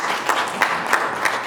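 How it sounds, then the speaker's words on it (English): Audience clapping at a local government conference, a thin, steady patter with a few louder bursts, moderately close, lasting only a moment. "A round of applause for her,"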